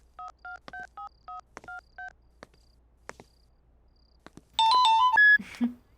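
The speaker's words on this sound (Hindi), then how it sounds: "सिमरन को फोन करता हूँ।" Phone keypad dialing tones, about eight short evenly spaced beeps, followed by a brief loud ringback or connection tone as a call is placed to a friend.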